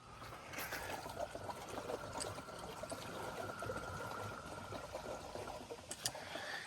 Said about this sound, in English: You can hear the air coming out of it.